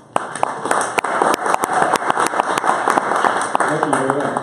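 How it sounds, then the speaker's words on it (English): Audience applause at a Bitcoin meetup talk, steady clapping from a crowd filling the room, with a voice speaking over it near the end. "Please, big round of applause."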